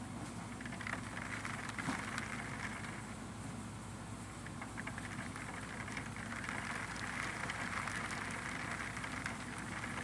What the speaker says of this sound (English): The rain is here, guys.